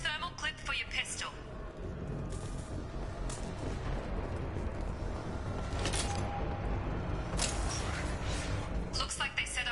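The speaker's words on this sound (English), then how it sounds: "Those canisters by the door are going to blow" Explosive canisters detonate in the action game Mass Effect 2, with several loud booming blasts spread out over a steady din of combat noise and voices talking.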